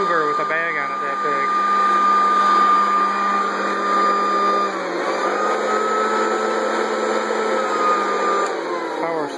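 A Hoover Decade 80 upright vacuum cleaner, model U4 407 in hunter green with a huge bag, runs its motor in a steady, loud whine and drone close by, with a slight pitch wobble partway through.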